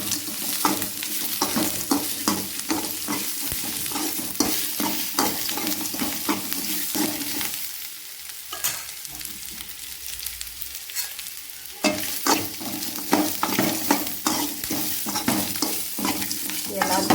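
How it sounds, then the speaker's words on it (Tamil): Grated coconut and pirandai being sautéed in a pan for chutney, a steady sizzle with frequent scraping clicks of a spatula stirring, briefly quieter midway before the rhythmic stirring resumes. "அந்த பேரண்டையும் சேர்த்து கொட்டி இதில் வணக்கிக்கிறேன்"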